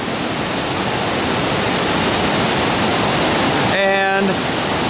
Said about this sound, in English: We're now looking up Big Falls.